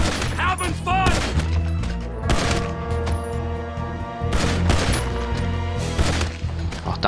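Rapid gunfire rings out while shooting zombies in a GTA 5 zombie mod, with repeated bursts and booms layered over game music, and some voice in the background.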